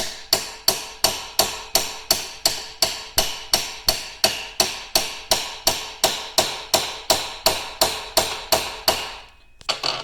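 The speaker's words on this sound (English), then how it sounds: "use our hammer and tap on the yoke" A hammer taps on the yoke of a RZR prop shaft U-joint resting on a table. The sharp, ringing metallic strikes come close and loud at a steady rhythm, about two per second, then stop just before the end.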